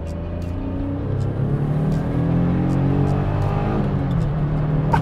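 A 1987 Daihatsu Charade GTti with a turbocharged three-cylinder twin-cam engine accelerates from close by, its low engine drone climbing steadily in pitch through the gears as it pulls hard.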